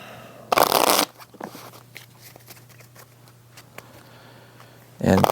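Playing cards shuffled for a solo Fliptown tabletop game: a brisk riffling burst near the start and another at the end, with quieter handling noises in between.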